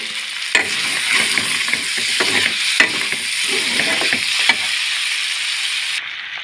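Chopped tomato and two green chillies sizzle loudly in a pan while being stirred, spoon scrapes and clacks recurring over the steady frying hiss, close up.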